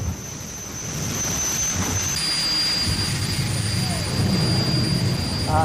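A jet car's jet engine spooling up, a rising roar with a high whine that holds steady and grows louder over several seconds.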